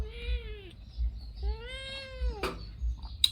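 A cat meows twice in long, drawn-out calls, close and clear, followed by a brief rustle and a sharp click, with no speech.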